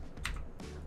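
Computer mouse clicks while selecting a door in plan view in Archicad: two faint, close clicks about a third of a second apart over a quiet background, with no talk.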